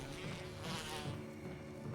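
Zombie bees from the Resident Evil video game buzz in a droning insect hum that swells and dips in a loose pulsing rhythm, close and fairly loud with no talk.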